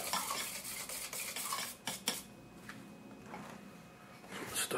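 Grain filler being stirred in a can for woodworking: a steady scraping, clinking stir with a couple of sharper knocks against the metal, close and fairly quiet.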